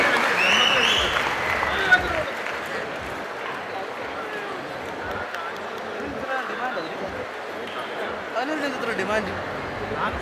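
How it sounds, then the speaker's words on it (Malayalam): Audience at a Kudumbashree award ceremony on stage at the Chengannur Saras Mela, clapping in a sustained, dense wave of applause throughout, with voices mixed in over it. "വനസുന്ദരിക്കുള്ള ഒരു ബിഗ് സല്യൂട്ടായി നമ്മുടെ കയ്യടികൾ മാറട്ടെ"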